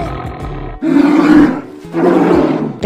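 Two deep, powerful roars from a big cat, each lasting about a second, loud and close, preceded by a low rumble.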